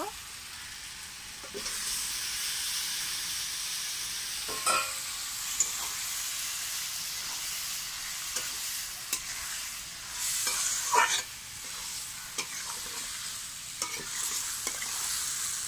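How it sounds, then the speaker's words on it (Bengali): Marinated chicken stirred and sautéing in spiced oil over low heat, giving a soft steady sizzle with scattered scraping stirs of a spoon in the pan, and quiet talk now and then. "এবারে অল্প আঁচে কষতে থাকবো।"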